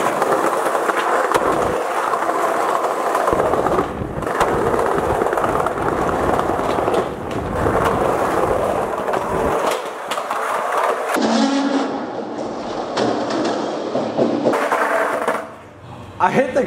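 Skateboard wheels roll loudly down a hallway over floor cracks, a continuous close grinding rumble with sharp jolts, the texture changing toward the end, and voices come and go over it.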